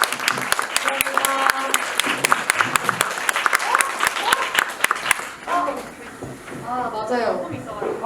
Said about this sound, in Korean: 다시 한번 오늘 늦은 시간까지 저희와 함께 해준 그 감독과 배우에게 큰 박수 부탁드립니다.